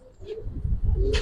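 Pet pigeons, a paired couple kept as a breeding pair, cooing in low soft murmuring phrases that swell and fade, close by over a faint background.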